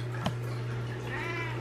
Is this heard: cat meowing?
yes